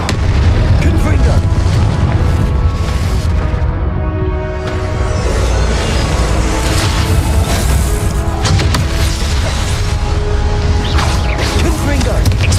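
Confringo spell blasts in the game Hogwarts Legacy land one after another as heavy booms and bursts, mixed with game effects and a speaking voice throughout.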